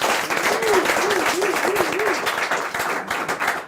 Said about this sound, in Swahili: Wapi makofi ya Mr. T na Kush?